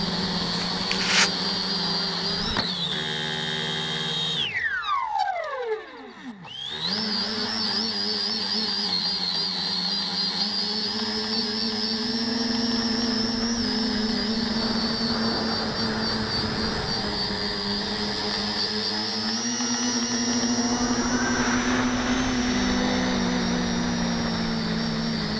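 An RC tricopter drone flies overhead with a sustained, steady whining motor drone, briefly sweeping and dropping in pitch as it maneuvers, then holding a loud, even tone.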